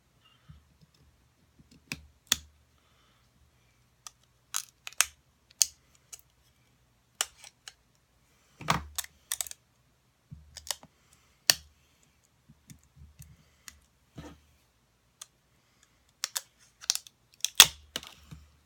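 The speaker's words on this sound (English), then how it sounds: "you need to unwrap your candle" A plastic wrapper is pulled off a candle in a series of sharp, close crinkles and clicks scattered across a quiet background, coming in irregular bursts with short pauses.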